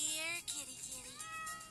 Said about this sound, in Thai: มันเป็นสกินแมวอีซิลี่